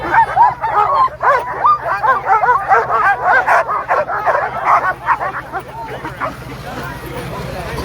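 Sled dogs at the start of the Knik 100 Mile sled dog race bark and yip excitedly in a dense, continuous chorus, close and loud, with crowd babble underneath.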